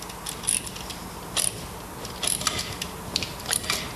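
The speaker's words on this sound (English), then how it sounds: "Use the ratchet wrench to lock it in." A ratchet wrench locks an end plate removal tool onto a PLP stainless steel splice closure, giving several quick bursts of ratcheting clicks spaced irregularly over a faint background hiss.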